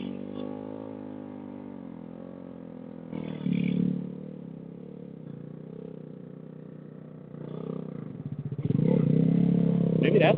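A motorcycle engine idles, then blips and climbs toward 8,000 RPM, its pitch rising in steps to a loud, sustained rev near the end, with brief clatter.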